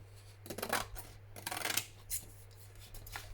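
Scissors trimming collage sheet paper, a few short crisp snipping bursts close by, separated by brief pauses, with a faint steady hum underneath and no talking.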